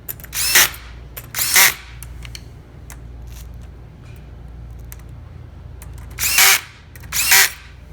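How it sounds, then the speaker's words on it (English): A wrench with a 3/8 socket tightening headliner bolts, with bursts of loud ratcheting or whirring, two near the start and two near the end, separated by quieter handling noise and low hum. "we're going to be just tightening down these 2 outside bolts on either edge first"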